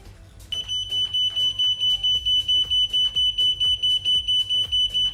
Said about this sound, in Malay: bila dia detect voltage, dia akan mengeluarkan isyarat ataupun bunyi beep